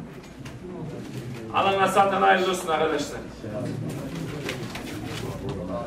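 Pigeons coo in low rolling calls at a pigeon auction in Osmaniye, Turkey, with a louder burst partway through, while someone talks over them nearby.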